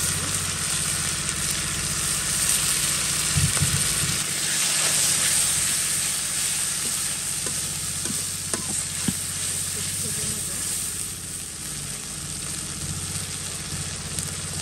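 Ginger garlic paste sizzles steadily in hot mustard oil in a home kitchen pan, a close continuous frying hiss with occasional light stirring scrapes and taps.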